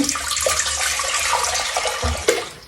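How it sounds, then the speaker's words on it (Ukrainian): Hot water poured off tomatoes that have soaked in boiling water, a steady loud rushing splash that runs continuously with a brief surge near the end. "зливаємо водичку"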